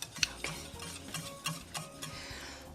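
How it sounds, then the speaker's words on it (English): A spoon works gently around a saucepan of crème anglaise custard sauce on the stove, a few soft scrapes and light clinks spaced out over a faint background hiss. "So just stir it gently"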